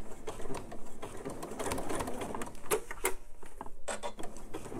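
A sewing machine stitches PU synthetic leather for a purse, running in short, uneven bursts with small mechanical ticks and clicks, fairly close and moderately quiet, with no talking.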